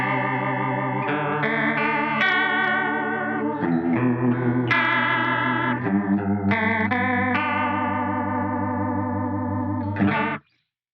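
Les Paul guitar on its bridge pickup, played through a Boss CH-1 Super Chorus pedal, strumming sustained chords with a shimmering, doubled chorus wobble, loud and steady for about ten seconds before stopping cleanly.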